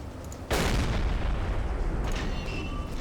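One loud deck gun shot from a submarine in the game Silent Hunter 3, a sharp blast followed by a sustained, booming reverberation that fills the rest of the moment, heard alone without speech.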